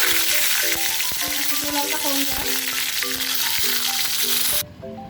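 Bay leaf sizzling in oil left over from frying fish, a loud steady crackling fry with light stirring throughout, cut off near the end.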